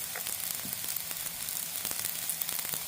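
Cooking oil sizzles and crackles in a pan for chicken fried rice, a steady close frying hiss with frequent small pops and spits throughout.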